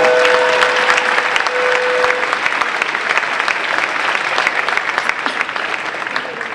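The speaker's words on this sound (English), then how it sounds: "let's give him another round of applause" Applause from the audience at a high school honor roll assembly, loud and sustained from many hands with a brief tone near the start, tapering slightly toward the end with faint crowd murmur.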